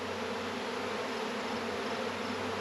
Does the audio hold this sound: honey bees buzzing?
yes